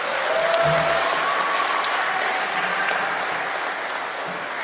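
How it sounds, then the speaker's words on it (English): Congregation applauding at a church service, a dense sustained round of clapping from a crowd that lasts throughout, with faint voices mixed in. "Can we give a round of applause to the Lord Jesus Christ?"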